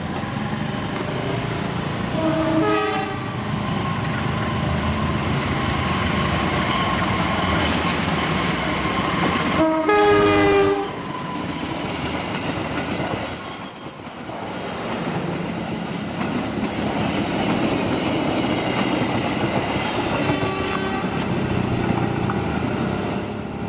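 A locomotive-hauled Indonesian passenger train rolls past on a wide curve near Cikarang, a steady rumble of wheels on rails with rhythmic clacking bursts, a horn-like tonal swell and fluctuating squeal as carriages pass close by.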